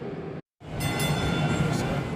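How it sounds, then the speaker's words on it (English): A Dallas DART light-rail train rolls past close by, a steady loud rumble and rattle with a brief break near the start and faint high squeal above. "as you can see passing me, DART trains"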